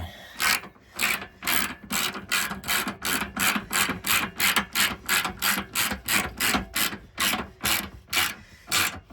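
A hand ratchet clicks back and forth in a steady, even rhythm of about twenty strokes, close and loud, while tightening bolts during a Go Rhino Dominator D6 running board install on a 2018 Ram 2500 Cummins Quad Cab.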